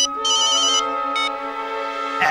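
A telephone ringtone plays loud and close, a bright electronic melody of sustained tones with repeating high bursts, ending in a brief click.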